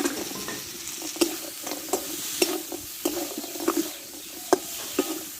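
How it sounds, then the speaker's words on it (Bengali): Potatoes, eggplant and bori sautéed in a pan: a close sizzle with repeated sharp scraping stirs of a spatula against the pan at irregular intervals, no talking. "দেখো আলু বেগুন ভালো করে কষে নিচ্ছি"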